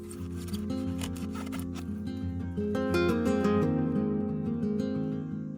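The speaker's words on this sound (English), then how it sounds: "I'm going to use a sharp blade to cut out a pocket inside it." A sharp blade scrapes and cuts into a foam-like terrarium background, producing close, scratchy strokes with creaking squeaks over a low steady hum, no voices.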